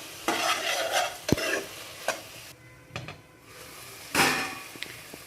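Tomato gravy with salt cooks in a pan and is stirred, with a steady sizzle broken by scraping strokes and a few sharp utensil knocks against the pan, fairly close.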